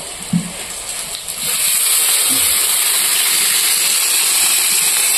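Water poured onto chicken frying in a pan bursts into loud sizzling steam, a sudden rush of broad hiss that holds steady and close after a few brief clinks.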